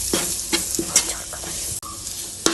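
A chicken curry mixture sizzling in a pan while being stirred, with rhythmic scraping strokes every half second over a soft steady sizzle and a sharp clack near the end.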